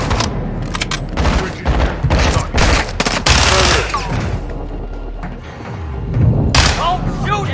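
Gunfire in the video game Modern Warfare 2, loud rapid bursts of automatic fire and heavy booms. Shouted voices in the game are mixed in among the shots.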